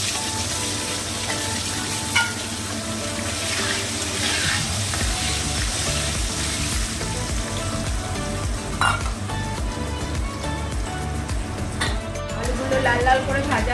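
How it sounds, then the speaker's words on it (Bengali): Potato pieces frying in oil in a pan for a Bengali fish curry, a steady close sizzle with occasional utensil clinks and stirring, running continuously under faint background voices. "এবারে আলুগুলো একটু লাল লাল করে ভেজে নিতে হবে"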